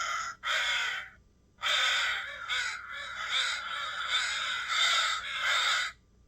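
Played-back recording of several crows cawing: harsh, overlapping caws in long continuous bursts with a brief gap, loud and steady, no talking.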